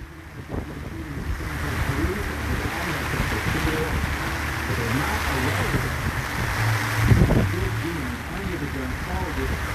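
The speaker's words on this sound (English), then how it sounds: "It's getting windy out here." Wind gusts roughly across an outdoor microphone, a steady broadband rush with a louder burst near the end, under someone talking throughout.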